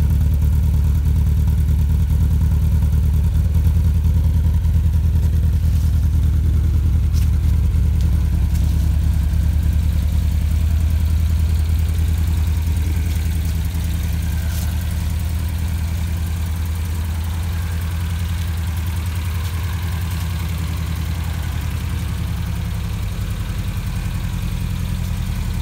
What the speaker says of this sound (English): this is a sport exhaust.